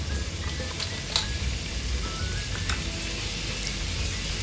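Clams stir-fried in a pan with chili, ginger, garlic and fermented black beans give a steady close sizzle throughout, with a few light clicks of a utensil stirring and scraping.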